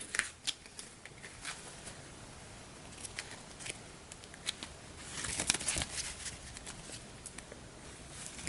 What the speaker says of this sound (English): Once I get everything lined up so I can shuffle it.